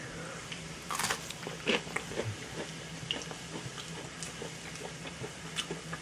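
Crunchy bites and chewing up close into a fried onion hush puppy, with a few sharp crackles over a low steady background hum.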